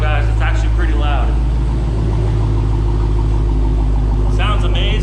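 A 2023 Dodge Challenger SRT Hellcat with stock exhaust runs with a loud, deep, steady engine rumble close by, while a person talks over it throughout.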